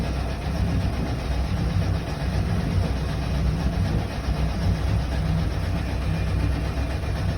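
Sailboat's inboard engine running steadily as the boat moves under its own power on a calm day, a continuous low droning rumble with no breaks.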